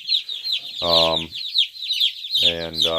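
A box of 75 newly delivered chickens cluck and peep in a steady, busy chatter nearby, with two louder, drawn-out calls rising above the flock.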